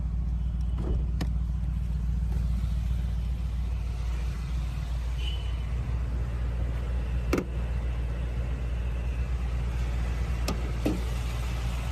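A 2024 Mercedes-AMG G 63 Grand Edition's 4.0 L twin-turbo V8 petrol engine, the M177, idles with the bonnet open. It gives a steady, deep, even hum with no revving and a faint click or two.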